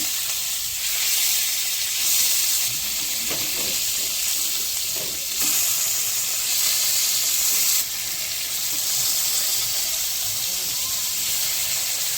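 Fish frying in plenty of hot oil makes a continuous bright sizzling hiss that swells and eases in waves, close and fairly loud, with occasional faint voices in the background.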